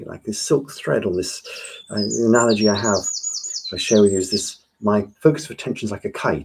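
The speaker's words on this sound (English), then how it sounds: "I can now listen to the birds singing." Birdsong outdoors: several bright, high chirping phrases rise and fall across the middle of the clip and again near the end, moderately close, heard between and beneath a man's calm, steady talking.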